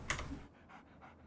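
Dogmeat, the dog companion in the Fallout 3 video game, panting in quick soft breaths after a brief louder sound at the start, then a few faint rhythmic pants over quiet game ambience.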